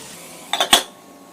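A cooking vessel holding onions and spices being closed with its lid, two quick metallic clanks in close succession, near and fairly loud against a quiet kitchen background.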